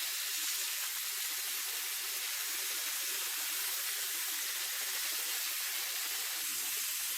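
Kanthari pepper chicken fry sizzles in a hot pan with a steady, dense hiss that carries on without a break, close and fairly loud.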